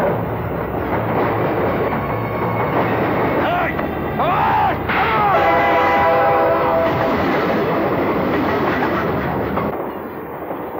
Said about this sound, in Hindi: हमें इस ट्रेन से कूदना होगा।